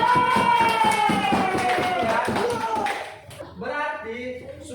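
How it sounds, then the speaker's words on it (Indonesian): Students in a classroom lesson clap for a group with rhythmic, fairly loud claps mixed with raised voices, then the clapping gives way to a teacher talking. "kasih tepuk tangan dulu untuk kelompok 1"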